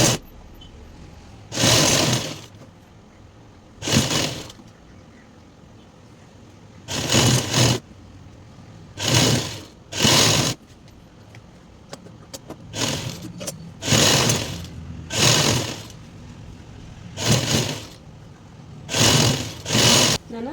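A sewing machine stitches palazzo pants in short bursts, each run lasting about a second, separated by quiet pauses, close and steady with no talking.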